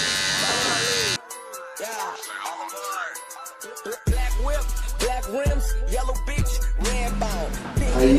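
Electric hair clipper with the zero guard used for detailing while finishing a fade on a flat top haircut, buzzing in several close bursts with pauses, alongside brief voice sounds.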